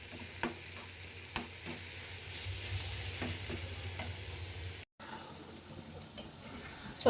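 Small fish are sautéed in spices in a pan. A soft, continuous sizzle carries a few sharp utensil knocks and stirring scrapes, then a brief dropout before the frying resumes, with no speech.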